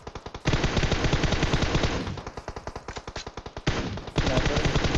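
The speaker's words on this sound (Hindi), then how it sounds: "फिर भी गोली चलाए जा रहे हैं गाड़ी पे।" Rapid automatic gunfire in PUBG Mobile rattles in close, loud bursts, rounds fired at a vehicle, with brief pauses between volleys and no voices.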